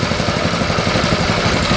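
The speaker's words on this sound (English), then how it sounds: "I'm sure that that little engine idling like that would run for 7 or 8 hours." A small engine runs a fishpen air compressor at idle under almost no load, with a loud, close, steady rapid chugging clatter and no pauses.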